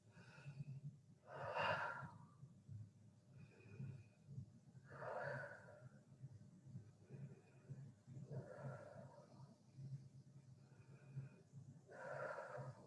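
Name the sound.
children doing five deep belly breaths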